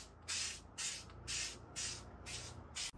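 Plasti Dip coating is sprayed onto a Tesla in five even hissing bursts with short pauses between them, close and fairly quiet over a low room hum.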